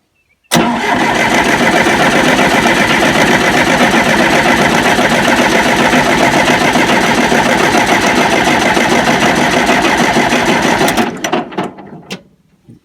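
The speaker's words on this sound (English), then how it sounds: "Starter's getting warm and the battery's starting to die." The engine of an old, roughly 50-year-old John Deere 450 dozer cranks and then runs, a loud, steady, rapid mechanical chugging that lasts about ten seconds before sputtering down, with no talk.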